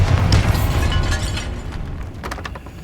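A Bombarda spell explosion in Hogwarts Legacy bursts with a loud, heavy boom, then rumbles and crackles down into scattered debris and sharp pops, with no voices.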